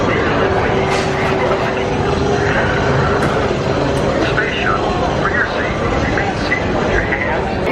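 The Seven Dwarfs Mine Train roller coaster rumbling along its track at a theme park, a loud continuous roar with squealing wheels and distant crowd noise, with people talking over it.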